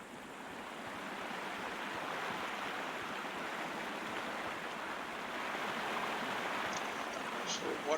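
Water rushing along a river in the Sherlock Holmes Crimes and Punishments game, a soft, steady broadband wash of flowing water that holds at a constant, fairly faint level throughout.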